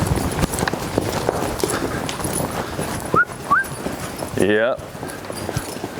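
Horse hooves thud in a rhythmic loping beat on soft ground during colt starting, close and steady, with a brief high whistle-like squeal and a spoken word over the hoofbeats.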